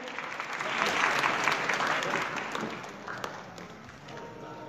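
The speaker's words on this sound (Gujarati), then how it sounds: "સંસ્થા વતી સ્વાગત કરી જોરદાર તાળીઓ આપણે વધાવી લઈએ" Loud, sustained applause from a seminar audience welcoming an honoured guest, a dense clapping wash that swells early and slowly tapers over several seconds.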